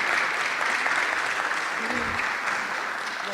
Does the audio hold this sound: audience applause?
yes